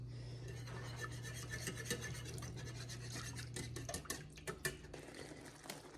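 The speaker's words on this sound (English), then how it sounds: "gradually whisk in the broth, bring it to a simmer over medium heat, cook stirring often until it is thickened" Broth is whisked into a pot for beef stew, giving a quiet, scraping, rasping stir against the pot with irregular clicks and taps, while a low steady hum runs underneath for the first few seconds.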